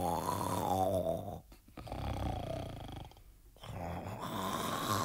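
Snoring from a magician in an audio drama who has been drugged with a sleeping potion in wine, heavy rasping breaths repeating in slow cycles with brief pauses, close and loud, with no talk.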